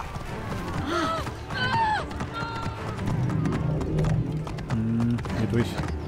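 A horse gallops in Assassin's Creed Origins, its steady clip-clop of hooves rising and falling as it runs, with a few whinnies and a voice talking over it.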